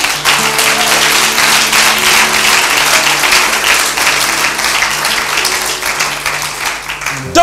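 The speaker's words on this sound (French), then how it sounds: "Acclame un peu le Seigneur." A church congregation at a French-language sermon applauds loudly and steadily, a dense, close wash of clapping that holds for several seconds while a sustained instrumental tone sounds underneath.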